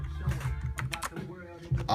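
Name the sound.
typing on a mechanical keyboard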